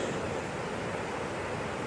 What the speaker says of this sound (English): it's a pretty spectacular waterfall when you get up here